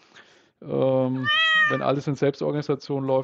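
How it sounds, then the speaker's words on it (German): A cat meows once, a clear drawn-out, tonal call lying between stretches of close male speech. "Das ist unsere Katze hier übrigens."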